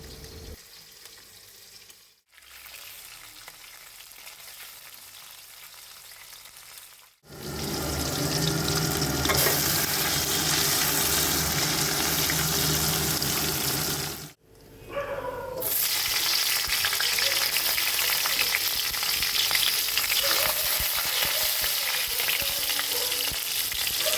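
Hilsa fish pieces full of roe fry in hot oil, a loud, dense sizzle that cuts out briefly twice and returns, heard close with no talking.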